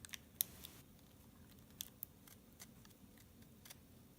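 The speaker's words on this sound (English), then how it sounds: "Just sort of cut it into maybe a circular." Scissors make faint, scattered snips and clicks while cutting a circular shape, likely from paper or card for a portal craft. The sounds are quiet and close, with short pauses between cuts.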